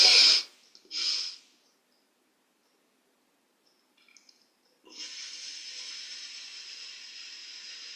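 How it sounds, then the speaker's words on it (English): A slow, steady inhaled breath taken on cue during a guided relaxation exercise, a soft airy hiss that starts after a pause and holds evenly for about three seconds, close and fairly quiet, with brief breathy sounds earlier. "Deep breath in."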